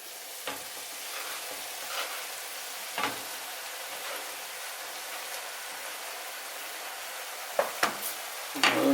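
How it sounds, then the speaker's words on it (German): Chopped champignon mushrooms and minced meat sizzling in a wok pan, a steady broadband frying hiss with a few soft stirring scrapes and a cluster of sharper clicks near the end, no voices. "Den Champignon habe ich schon kleine geschnitten, jetzt tue ich auch rein."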